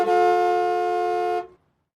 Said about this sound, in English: Janet's sister gets frustrated and starts honking the horn at him